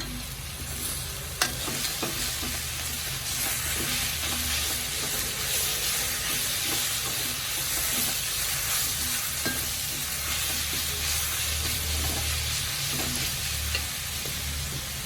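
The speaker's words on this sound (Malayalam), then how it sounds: "നന്നായിട്ടൊന്ന് ഇളക്കി കൊടുക്കാം" Spinach keera thoran being stirred in a hot pan, a continuous close sizzle and hiss with soft scraping strokes of a spoon repeating throughout, no voices.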